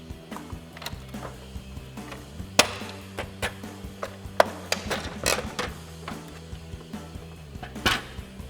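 Plastic trim clips popping out of a 2024-2026 Mustang GT deck lid during spoiler installation: a series of sharp, close clicks and snaps at irregular intervals over faint mechanical handling noise, with no talking.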